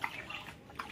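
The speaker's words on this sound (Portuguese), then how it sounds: "ele tá ali bebendo a aguinha fresquinha" A dog lapping fresh water from its bowl at home, soft wet splashing licks in quick bursts, close and faint.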